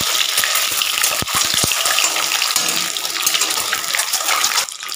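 Eggs frying in hot mustard oil in a pan give a loud, steady crackling sizzle that runs through the whole stretch with no talking.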